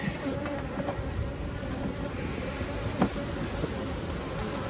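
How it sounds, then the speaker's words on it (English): Honey bees buzzing around an open beehive while frames are worked, a steady faint hum with occasional individual bees passing close, no talking. "Shouldn't be too many bees up here."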